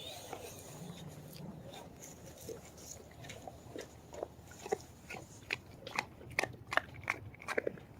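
A dog gnaws on a beef hide chew, giving irregular close crunches and crackling bites that grow denser and louder toward the end over low background noise.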